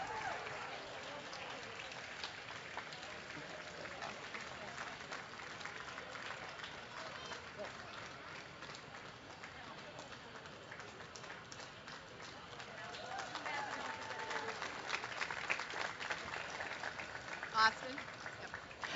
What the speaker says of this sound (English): Yes, big round of applause for Austin.